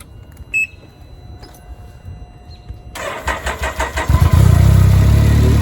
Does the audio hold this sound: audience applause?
no